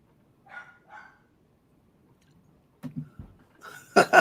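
Several dogs, including a miniature golden doodle, give a few scattered yips and barks at a distance, then a louder burst of close barking at the end, with occasional thumps.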